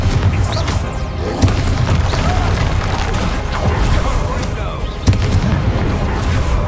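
Fiery Confringo spell blasts in Hogwarts Legacy combat make a dense, continuous booming rumble, with sharper explosive bursts standing out near the start and end.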